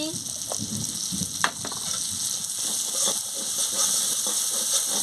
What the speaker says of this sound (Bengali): লঙ্কার গুঁড়োটা দিয়ে দিচ্ছি আমি ভালো করে মশলাটাকে ভেজে নিচ্ছি মশলা মানে পোস্তটাকে ভেজে নিচ্ছি